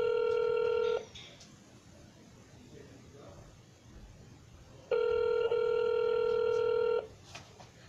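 Telephone tones from a handset placing a call: a steady, loud tone for about a second, a quiet gap, then a second long tone lasting around two seconds.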